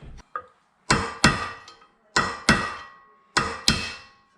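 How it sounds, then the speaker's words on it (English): A chisel is struck with a hammer to turn a bearing on the shaft of a Scag vacuum housing, six sharp metallic blows in pairs with gaps between, close and loud, with no voices. "I've got a chisel, and we're just going to try and get it to turn on this shaft."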